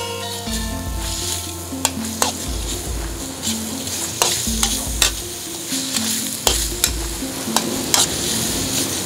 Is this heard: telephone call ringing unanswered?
no